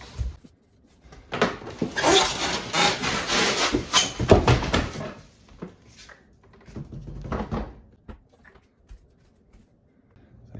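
A Yardmax 22-inch self-propelled mower is lifted out of its cardboard packaging, giving loud scraping and rubbing of cardboard in a sustained burst followed by a few scattered knocks and thumps.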